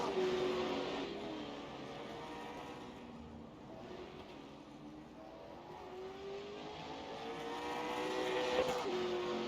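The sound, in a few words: late model stock race cars racing in video game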